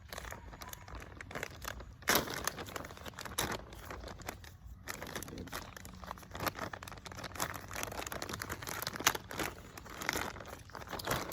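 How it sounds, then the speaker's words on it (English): Potting soil is poured and scooped into a container for winter-sown tomato seeds, a continuous close crunching, crinkling rustle with gritty patter throughout. "Start by putting this soil in here."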